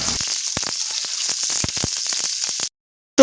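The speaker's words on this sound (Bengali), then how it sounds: "পটলগুলো মিডিয়াম ফ্লেমে 3 থেকে 4 মিনিট ভেজে নিতে হবে।" Pointed gourd fries in hot oil over medium flame, a dense continuous sizzle with scattered pops that cuts off abruptly near the end.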